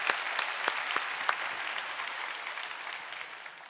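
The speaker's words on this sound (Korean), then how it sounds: "다시 한번 격려의 박수 해주시기 바랍니다." Church congregation applauding during a Sunday Easter service, a steady wash of clapping with a few sharper claps near the start, holding fairly even then easing slightly toward the end.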